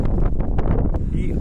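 Wind blowing outdoors in Iceland, a rough, buffeting rush with gusty bursts battering the microphone, close and fairly loud across the whole short stretch.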